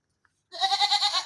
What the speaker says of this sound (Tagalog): Yan mga idol, yung ating kambing.